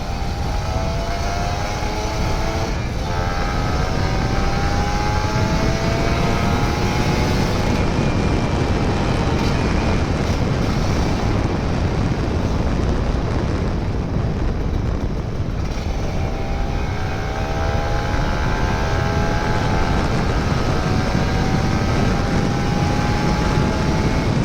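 A Kawasaki Ninja RR 150 motorcycle engine drones steadily while riding on a morning ride in the rain. The roar is loud and constant, with rising and falling revs under heavy wind rush throughout.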